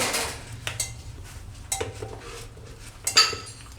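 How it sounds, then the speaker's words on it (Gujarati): Bottle gourd pieces go into a pressure cooker, with repeated close clinks and knocks of metal and vegetable chunks against the pot, loud and alone. "આ રીતના ટુકડા કરીને કુકરમાં બધાય લઈ લેવું."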